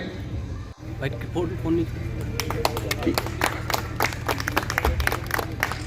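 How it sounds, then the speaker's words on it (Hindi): Applause from an audience welcoming a guest at an event in a village primary school, a steady wash of clapping that runs through the clip at moderate loudness, with a low hum underneath. "जोरदार तालियों से स्वागत।"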